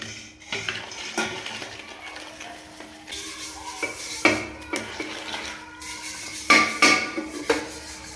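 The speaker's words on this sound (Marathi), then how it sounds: "विम जेलनं सगळं व्यवस्थित घासून घेईल" Brass pot being scrubbed by hand with Vim dishwashing gel and a little water, giving a close, steady scraping rub broken by several sharp metallic clinks and knocks of the vessel.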